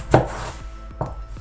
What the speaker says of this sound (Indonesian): Now I will start to cut